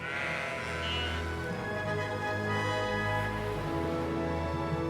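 Sheep bleat in northern Iceland, with sustained wavering calls that overlap near and clear over a steady outdoor background.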